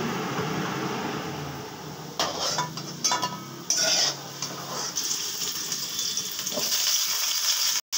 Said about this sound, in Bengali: অল্প একটু আলু এই কোপ্তা কারিটার মধ্যে দেবো বলে একটু ভেজে নিচ্ছি।